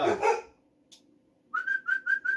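Dogs bark in a short, loud burst at the start, followed by a quiet gap and then a series of five high, whiny repeated tones.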